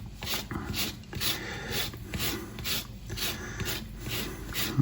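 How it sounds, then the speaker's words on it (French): Lemon zest grated on a microplane, a rhythmic series of close, raspy scraping strokes, roughly ten passes at an even pace, with no talking. "Je passe au microplane de l'autre côté. Un peu comme une lime à ongles."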